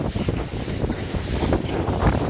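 Wind and water noise while wind winging on open water, a steady rushing roar of gusts buffeting the microphone over sloshing waves, loud and continuous throughout with no talking.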